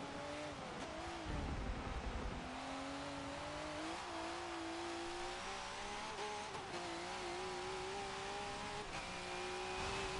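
A V8 Supercar races around Brands Hatch in Forza 7, its engine droning loud and steady with rising and falling pitch through gear changes, plus a brief tire squeal near the start.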